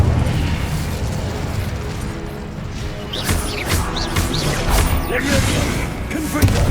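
Incendio fire spell blast in Hogwarts Legacy combat, a cluster of crackling, whooshing fiery bursts in the latter half over a steady low rumble of battle noise.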